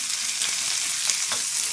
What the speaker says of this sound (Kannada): ಈಗ ನೆಕ್ಸ್ಟ್ ನಾವು ಶುಂಠಿ ಬೆಳ್ಳುಳ್ಳಿ ಪೇಸ್ಟ್ ಹಾಕೋಬೇಕು ರೀ